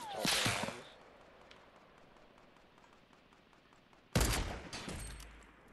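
Two sharp, loud cracks of a sniper rifle in Fortnite ring out, one at the start with a short ringing tail and another after a quiet gap of several seconds, the second followed by a low rumble.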